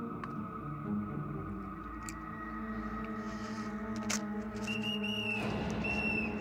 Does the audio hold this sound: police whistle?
yes